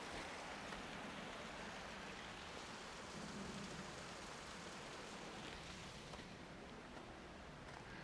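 Steady broadband rush of a waterfall beside a creek on a hiking trail, a continuous roar of falling water filling the whole stretch without pause, heard close and alone with no voices.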